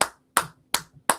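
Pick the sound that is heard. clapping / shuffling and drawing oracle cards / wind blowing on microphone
clapping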